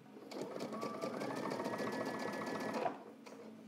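A sewing machine stitches a trench coat's lining to its welt, running steadily and close for about two and a half seconds before stopping abruptly, followed by quiet handling.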